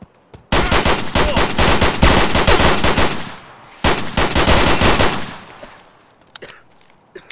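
Automatic gunfire from a weapon in the Escape From Tarkov shooter game, two loud sustained bursts of rapid shots separated by a brief pause, then fading echoes and a few scattered sounds.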